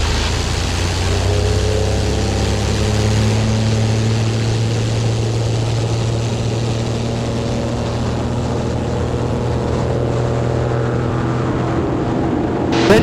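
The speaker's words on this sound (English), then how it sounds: "Now that was nearly a STOL takeoff by most measures, wasn't it?" A Zenith CH 750 Super Cruzer light aircraft roars at full power through a short takeoff, its propeller and engine drone loud, steady and close from the cockpit.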